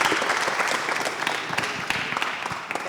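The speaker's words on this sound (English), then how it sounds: "Big applause." Applause from an audience at a tech startup pitch event in Cape Town, a dense steady wash of many hands clapping close by, sustained throughout without voices.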